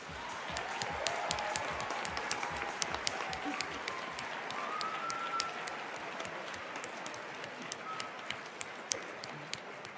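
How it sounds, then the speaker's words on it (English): Audience applause for the finalists of the MIT Battlecode 2007 programming tournament, a sustained patter of many hands, moderately distant and even, with sharper individual claps standing out now and then. "Can we give everyone a huge round of applause, please?"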